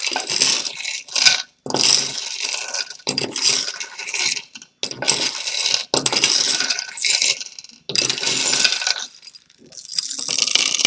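Small beads clatter and rattle in bursts with brief pauses, a busy, close-up jingling of many tiny pieces tumbling and dropping.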